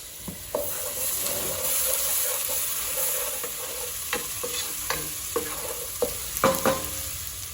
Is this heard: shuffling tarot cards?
no